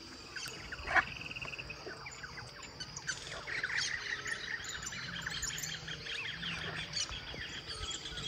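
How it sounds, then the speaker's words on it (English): A dense Brazilian jungle chorus of chirps, squawks and calls fills the air, with hyacinth macaws calling from a nearby tree among other birds and frogs. It is steady, layered and moderately close, and no one speaks. "Got some hyacinth macaws right there in the tree."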